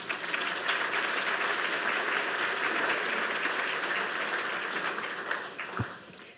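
A conference audience applauds steadily to welcome a keynote speaker, a dense, sustained roomful of clapping that gradually thins near the end, with a single thump just before it fades.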